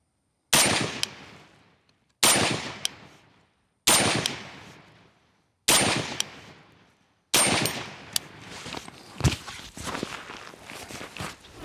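Five loud, close gunshots from a Sig Sauer MCX Spear rifle firing Hornady Black 168 grain ammunition, evenly spaced about a second and a half apart, each with a decaying outdoor echo.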